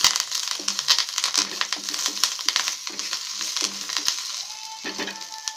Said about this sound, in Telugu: చివరిగా కరివేపాకు వేయాలి. బాగా మిక్స్ చేయాలి.